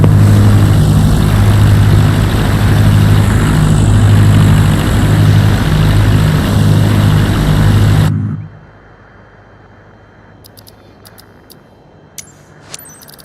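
A Cessna propeller plane taxis in a flight simulator game, its engine a loud, steady drone with a faint rhythmic pulse. The drone cuts off abruptly partway through, leaving quiet hiss and a few small clicks.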